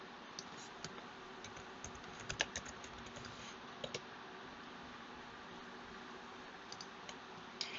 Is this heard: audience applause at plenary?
no